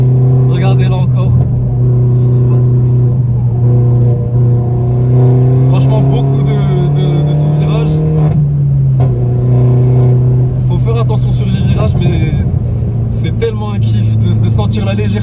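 A Peugeot 208 GTI with a 1.6 turbo engine revs and drops through gears on a winding road, its engine tone rising and falling close to the listener while someone talks excitedly over it throughout.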